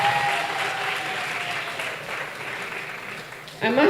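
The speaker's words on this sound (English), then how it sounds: "Another round of applause for these great juniors." Audience applauding at the grand final of a school debate competition, steady dense clapping sustained throughout, with a voice speaking over it.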